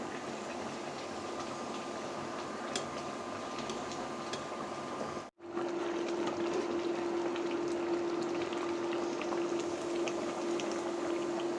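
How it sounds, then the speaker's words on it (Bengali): Khichuri bubbling in a pot with a fried onion and garlic tempering being added, a steady close boiling and simmering hiss broken by a brief gap midway, then continuing with a low hum, no talking. "খিচুড়ি অলমোস্ট হয়ে গিয়েছে, এখন বাগার দিয়ে দিব"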